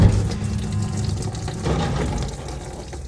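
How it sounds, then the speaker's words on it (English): Coolant gushing from a disconnected oil cooler inlet hose on a Dodge Challenger with a Whipple-supercharged 426 Hemi, a loud close splashing pour that starts strong and eases slightly as it runs. "And it indeed did spill water everywhere. Or antifreeze, I guess."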